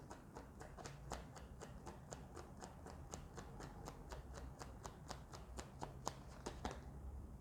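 Tarot cards being shuffled by hand, a quick, even series of soft crisp snaps and riffles repeating close up in a quiet room.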